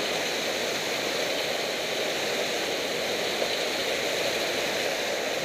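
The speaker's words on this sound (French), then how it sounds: "C'est assourdissant le bruit. C'est torrent de montagne." A deafening mountain torrent in the Hautes-Alpes Écrins rushes nearby, a loud, steady wall of white-water roar with no breaks or voices.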